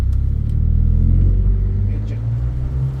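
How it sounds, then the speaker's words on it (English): An Alfa Romeo Stelvio Quadrifoglio engine rumbles steadily with a deep low drone, swelling slightly as it revs, heard close through open windows with a voice in the background. "Open up the windows, you can hear that"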